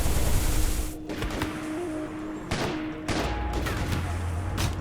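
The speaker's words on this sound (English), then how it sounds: "immediately begins firing on Wolf and Tarsier, all while her allies are nearby" A fire rifle shooting in RimWorld: a rapid volley of gunshots opens loudly, followed by a few sharp single cracks spaced across the rest amid game sounds.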